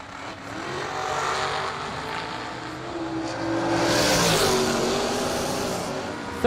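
A dragster on a drag strip at a Christmas bash event roars at moderate distance, engine note rising and swelling as it runs down the track, then fading slightly at the end.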